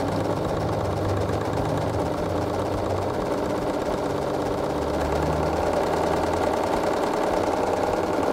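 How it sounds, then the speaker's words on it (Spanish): Sewing machine with a cutting blade trimming excess fabric as it stitches, a steady continuous mechanical whir with a low motor hum, running alone without pause. "Sigue cosiendo la máquina."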